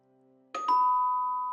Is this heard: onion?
no